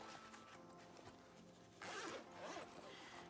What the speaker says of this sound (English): close it and unzip that part,